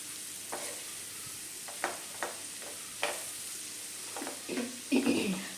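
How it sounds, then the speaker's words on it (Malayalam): Spice powders for a pickle fried in hot oil and stirred in a pan, with a steady sizzle and intermittent scraping strokes of the spoon that grow busier toward the end. "ആ പൊടികളുടെ എല്ലാം പച്ചമണമൊക്കെ ഒന്ന് മാറുന്ന വരെ നമുക്കതൊന്ന് നന്നായിട്ടൊന്ന് ഇളക്കി"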